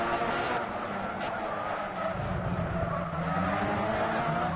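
Race car braking hard into a corner at Silverstone in Gran Turismo 6, a steady loud engine drone with tire noise, dropping in pitch midway as the car slows, with no talking.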